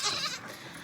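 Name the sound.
goats bleating while being fed hay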